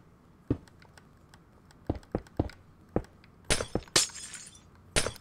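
Glass panes breaking in a block-building video game while a hockey stadium is built, a handful of separate sharp shatters with uneven gaps and soft clicks in between, loud and close.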